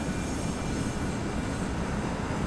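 A steady, loud roar of jet engines fills the air as military planes take off in the naval combat game Sea Power, a continuous broadband rumble with no voices.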